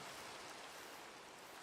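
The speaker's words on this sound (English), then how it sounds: "The gloom added by the rain just makes me want to stop somewhere dry and wait." Steady rain falling in Minecraft during a hard survival playthrough, a soft continuous hiss of drops with no other sounds, ending in a brief louder burst.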